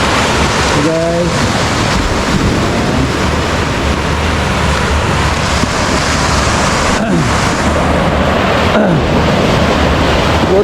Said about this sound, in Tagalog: Tama-tama lang yung alon guys.